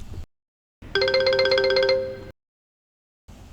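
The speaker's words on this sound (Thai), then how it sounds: "เสียงโทรศัพท์ก็ดังขึ้นอีก" A telephone rings once in a quiet room, a bright electronic two-tone trill lasting about a second and a half, loud and close, with brief silences on either side.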